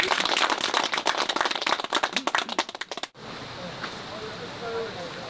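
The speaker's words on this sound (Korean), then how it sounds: "진심으로 마음을 담아 박수 한번 쳐드리겠습니다" A group of Buddhist pilgrims on a temple pilgrimage applauding together, loud, dense clapping up close that breaks into scattered claps and stops abruptly, followed by quiet background with a faint voice.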